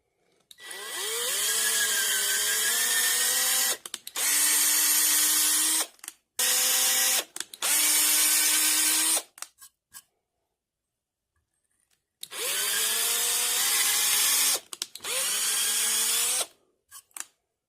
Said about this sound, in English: So I'm going to use a power drill and 1/8 drill bit.